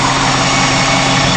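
Lincoln Mark VIII 4.6 liter dual overhead cam all-aluminum 280 horsepower V8 idling, a steady, smooth, close-up engine hum with no variation.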